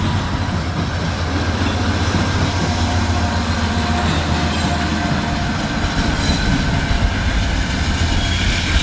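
A BNSF and CPKC freight train rolls past close by, a loud, continuous rumble with steady wheel clatter on the rails filling the whole stretch, no talking.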